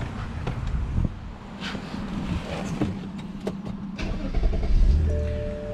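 A BMW 523i six-cylinder engine idling just after a cold start, a low steady hum heard faintly under wind buffeting on the microphone.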